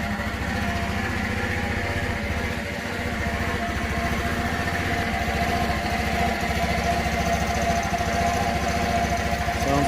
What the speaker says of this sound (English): Bike starts up.